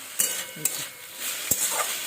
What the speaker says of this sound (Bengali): এতে পোস্ত ছিটিয়ে ভাজবো